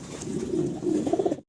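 A single fancy pigeon coos in low, rolling phrases for about a second and a half. The sound is close and moderately loud, with no talking.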